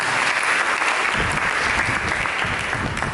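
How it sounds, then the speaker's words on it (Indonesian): A church congregation breaks into steady, full applause that holds evenly for a few seconds without any speech. "Berikan tepuk tangan dulu."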